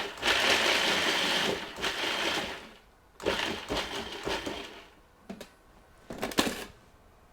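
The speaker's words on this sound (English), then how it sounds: "So I'm just going to pulse that here in the food processor." Chopped nuts pulsed in a food processor: a few short bursts of loud whirring and rattling, one long run then briefer pulses separated by pauses, close by with no talking.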